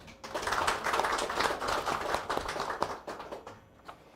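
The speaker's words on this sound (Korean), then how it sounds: "모두 박수로 맞이해 주십시오." An audience at the opening ceremony of an architecture department graduation exhibition claps in a moderate burst of applause that builds quickly, holds, then thins into scattered claps and fades.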